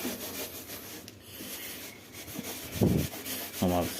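Gas stove being scrubbed to lift grease with a scrubber gentler than full steel, a steady rubbing scrape close up that strengthens into two louder bursts of scrubbing near the end.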